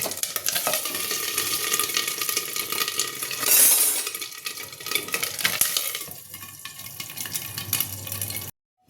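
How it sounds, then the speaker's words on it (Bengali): Rohu fish roe frying under a lid sputters in a dense, continuous sizzle with scattered sharp pops and crackles from the bursting eggs, plus a brief louder hissing flare near the middle before it cuts off. "ঢেকে ঢেকে ভাজবো আমি আমি ডিমগুলো ফাটবে"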